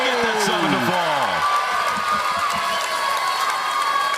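A crowd at a PBA bowling stepladder final cheers and whoops loudly and continuously, with rising shouts and excited voices mixed into the steady roar.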